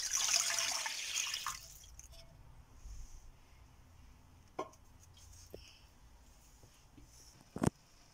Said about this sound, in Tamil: அதுக்கு 3 1/2 கப் தண்ணி ஊத்துடுங்க.